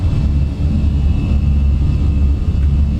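Airbus A320 engines, a Fenix Simulations model in Microsoft Flight Simulator, hold climb thrust with a steady, loud, low roar that stays constant throughout, with no voices.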